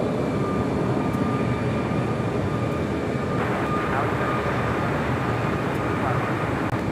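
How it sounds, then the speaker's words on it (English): A United Boeing Dreamliner at LAX produces a steady, fairly loud jet engine roar with a thin high whine, continuous and unchanging throughout. "we got that United Dreamliner up next."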